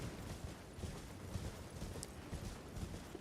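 A horse gallops at steady pace in Elden Ring, its rhythmic clip-clop hoofbeats repeating under faint ambient game sound, no talking.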